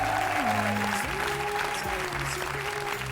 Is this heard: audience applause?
yes